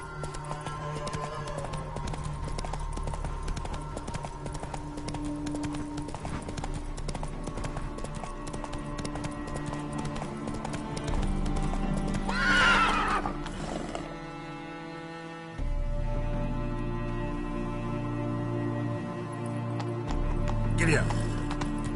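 Horse hooves clip-clopping in The Witcher 3, a steady run of hoofbeats under game music, with a whinny partway through and a rider urging the horse on.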